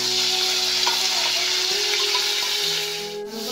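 Chili paste and a homemade spice mix with tomatoes sizzle steadily in a hot pan, a continuous close frying hiss with faint stirring scrapes throughout, no voices.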